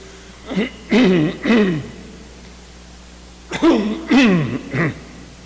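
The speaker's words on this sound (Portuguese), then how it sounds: "Eu não sei se quando vocês chegarem na minha idade vai ter essa pigarrinha aqui, ela é terrível" A man clearing his throat during a spiritist lecture, two separate bursts of raspy, voiced rumbling, each made of several short pulses, close and loud with quiet pauses between.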